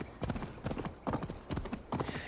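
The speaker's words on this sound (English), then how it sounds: "an all-terrain horse moving around there" A horse in Assassin's Creed Valhalla trots over terrain with steady, rhythmic clip-clop hoofbeats, loud and close, in repeating groups of quick thuds.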